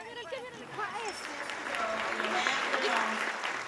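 Applause for Canada's Prime Minister over his refugee policy, a moderate crowd clapping that swells slightly, heard somewhat distant with faint voices mixed in.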